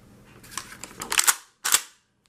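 Pump-action shotgun being racked close up: a sliding metallic rasp followed by two crisp mechanical clacks, back and forth, with silence between.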